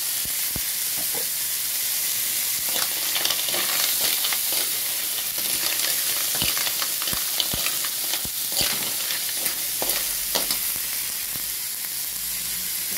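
Clams (halaan) hitting a hot pan, a loud continuous sizzle and crackling hiss with scattered stirring scrapes and clicks throughout, close up and without talking.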